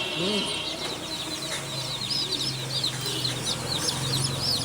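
A flock of chicken chicks peeps and cheeps in quick overlapping bursts, with soft clucks and a low steady hum beneath while the birds are caught and vaccinated.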